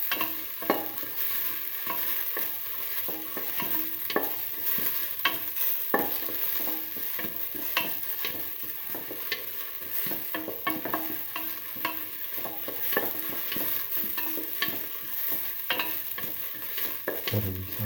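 Onions and fennel seeds sautéing in a pan with salt, a continuous close sizzle with frequent stirring scrapes and taps throughout, no talking.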